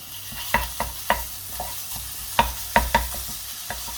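A utensil scrapes and stirs through ground beef frying in a pan, giving sharp intermittent clacks over a low, steady sizzle, close and moderately quiet with no talking.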